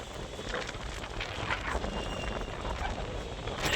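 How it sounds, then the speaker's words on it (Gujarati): A strong wind blows during a storm in Kutch, producing a steady rushing roar with buffeting on the microphone that swells slightly toward the end. "વરસાદ તો નહીં આવ્યો પણ પવન આવ્યો"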